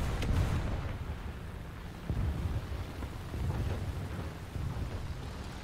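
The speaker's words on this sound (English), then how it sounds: "my artillery strike's actually hitting people" Artillery strike explosions in War Thunder: a heavy, continuous rumble with repeated deep booms, the strongest near the start and again about two seconds in, rolling on loudly without pause.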